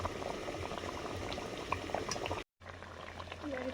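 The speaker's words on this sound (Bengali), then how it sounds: "কালিয়া ফুটে গেছে" Rohu fish kalia curry boiling in a pot, a close, busy bubbling and gurgling that runs steadily, cuts out for a brief moment, then resumes at the same simmering pace.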